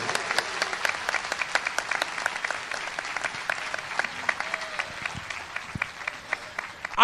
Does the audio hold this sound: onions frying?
no